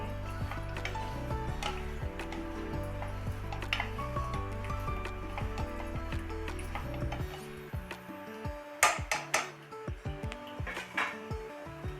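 Green peas kachori filling being stirred in a pan, a wooden spoon rubbing and tapping steadily against the pan, turning into sharper, louder clatters and knocks toward the end.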